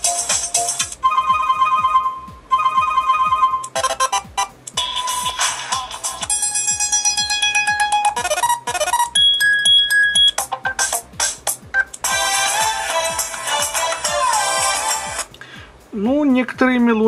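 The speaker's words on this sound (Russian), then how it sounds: "звук уведомления и звонок." Highscreen Jet Duo phone playing a series of different ringtone melodies and notification tones, electronic chimes and beeping tunes in short stretches one after another, with speech in between.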